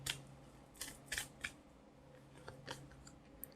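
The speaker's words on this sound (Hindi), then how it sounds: "ज़्यादा कार्ड्स नीचे गए थे तो हम फिर से शफल करते हैं" A deck of tarot cards is shuffled with soft, quiet, irregular papery flicks and snaps, close by and with no talking.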